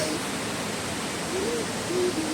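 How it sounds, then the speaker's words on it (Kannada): Kote Abbe Falls in Coorg pours as a constant, dense rushing roar that fills the scene, with faint voices barely showing beneath it. "ಕೋಟೆ ಅಬ್ಬೆ ಫಾಲ್ಸ್"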